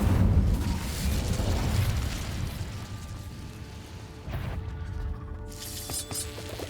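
A fire spell is cast in the Hogwarts Legacy video game, a loud, continuous roaring blast of flame with booming low rumble over several seconds, easing slightly and then swelling again.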